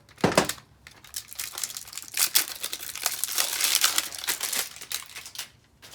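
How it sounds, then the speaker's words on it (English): Plastic packaging is pulled and torn off a new pair of bike pedals, producing close, bursty crinkling and ripping in irregular clusters with brief pauses between. "Take the packaging off the pedals."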